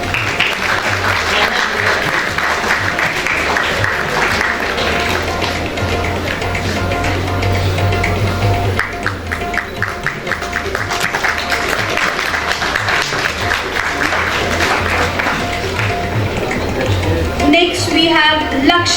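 A sustained round of audience applause at a school award ceremony honoring top exam scorers, dense and loud throughout, with an announcer's voice speaking over the clapping near the end.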